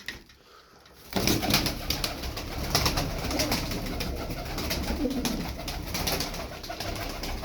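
Tumbler pigeons cooing in a loft, a dense overlapping murmur of low coos and rustling that starts abruptly after a quiet second and carries on steadily, moderately near, with no speech.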